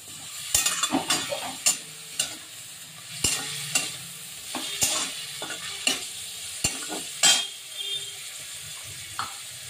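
Lightly fried chicken sizzles in a pan with ginger, garlic and onion paste while a spoon stirs it, making sharp, irregular clacks and scrapes against the pan over a soft, continuous frying hiss.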